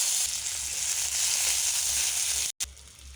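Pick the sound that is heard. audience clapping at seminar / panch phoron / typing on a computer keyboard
panch phoron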